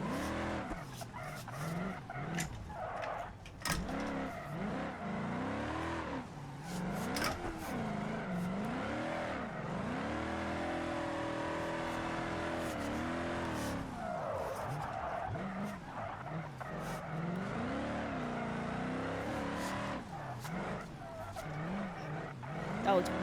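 A custom drift car in BeamNG.Drive slides sideways with long wavering tire squeals and engine revs that swell and dip, sounding close and continuous, with someone talking over it.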